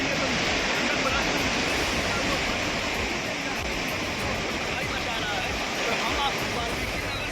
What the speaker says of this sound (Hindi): जहां पानी की रफ्तार इतनी ज्यादा है कि कुछ भी ठीक से सुन पाना भी मुमकिन नहीं हो पा रहा है